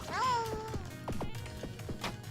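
A cat meows close by, one drawn-out meow followed by several shorter chirping meows, loud and clear with no talking.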